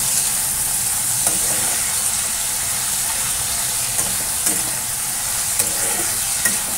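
Potatoes fry in a pan over a home stove, giving a loud, steady, dense sizzle with occasional faint clicks and pops throughout and no voices.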